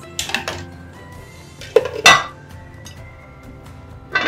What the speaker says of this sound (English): And then I'm going to cover the pot and allow the simmer for about 7 to 8